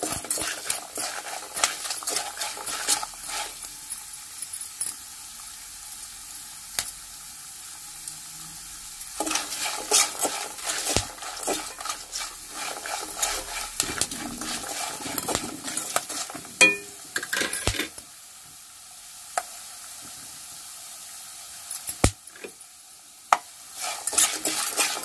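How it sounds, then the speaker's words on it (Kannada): Peanuts, chana dal, urad dal, curry leaves and cashews roast in hot oil for lemon chitranna, a steady sizzle and crackle broken by repeated scraping of a spatula against the pan and occasional metal clinks. "ನೋಡಿ ಕಡಲೆ ಬೀಜ ಎಲ್ಲ ಪಟ ಪಟ ಅಂತ ಇದೆ"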